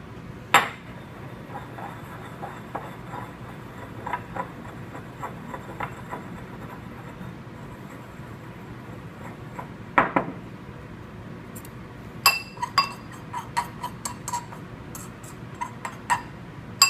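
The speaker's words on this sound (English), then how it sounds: "you're going to triturate using your mortar and pestle the xanthan gum and the animal treat base" A mortar and pestle triturates xanthan gum with an animal treat base, giving sparse, light ceramic clinks and taps, a few sharper knocks spaced unevenly over a quiet background, growing busier toward the end.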